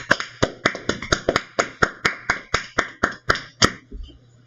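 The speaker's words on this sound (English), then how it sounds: "let's just give Joe one more round of applause" About fourteen evenly spaced sharp claps ring out, close and loud, like a single person or a small group clapping in a steady beat as a round of applause for a guest, fading out at the end.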